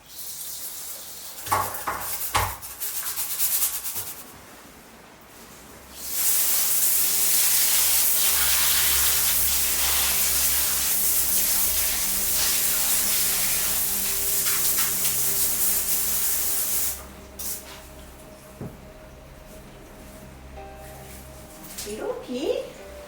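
A steam cleaner lets out a long, loud, steady hiss lasting about ten seconds. Shorter bursts of spray come before it and clattering comes after, with a person talking at times nearby.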